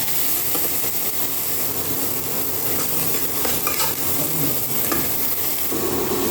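A spice paste of ground ginger, onion, garlic, cumin and dried red chili fries in a pan for a fish and pointed-gourd curry, giving a steady, close hiss with soft stirring scrapes throughout.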